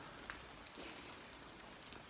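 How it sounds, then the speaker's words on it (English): Rain falling near freezing on the roof over a timber stair scaffold at the Magarei fortified church, a faint, steady hiss of drops with a few slightly sharper taps. "The rain has continued."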